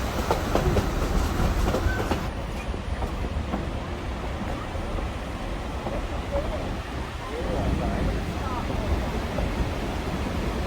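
A narrow gauge mountain train on the Durango and Silverton line rumbles steadily along, close by, with a faint rhythmic clatter of wheels on rail under a broad, continuous roar.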